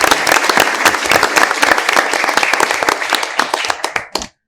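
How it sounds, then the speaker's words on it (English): Audience at a school board meeting applauds the school coaches, a dense burst of clapping that holds steady and then cuts off abruptly near the end. "So another round of applause to all of our coaches."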